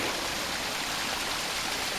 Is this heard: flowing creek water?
yes